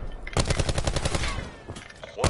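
A rapid burst of automatic gunfire from the player's weapon in Call of Duty: Black Ops 4, a dozen or so close, loud shots in quick rhythm, then a pause and a few more isolated shots.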